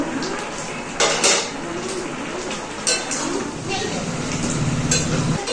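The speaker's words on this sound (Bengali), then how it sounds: "কিছুক্ষণ হয়ে গেছে ঢাকাটা খুলে দেখে নেব" Metal clatter of a lid lifted off a cooking pot of pumpkin greens and vegetables, with a couple of sharp clinks against the rim over a steady low kitchen background.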